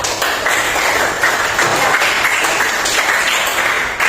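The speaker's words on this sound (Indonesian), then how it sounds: "boleh kasih tepuk tangan untuk Zahrifah?" A classroom of students applauds a classmate, loud continuous clapping from many hands held at a steady level for several seconds, close and without speech.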